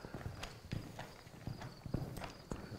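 A horse loping in a training session, its hooves beating out an even three-beat rhythm of soft thuds on the ground, close and moderately quiet, with faint background noise.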